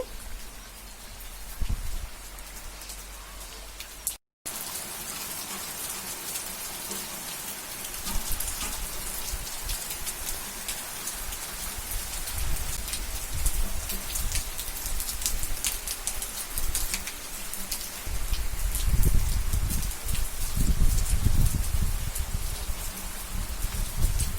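Steady rain pours down outdoors, a dense continuous hiss of drops on surfaces that grows heavier toward the end, with faint bird calls in the background and no talking.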